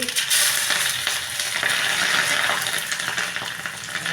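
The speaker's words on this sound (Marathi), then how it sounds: "आता आपण फोडणी करूया" Loud, crackling sizzle of mustard seeds, cumin and chillies hitting hot oil for tempering, a steady bright fizz with light stirring sounds and no talking.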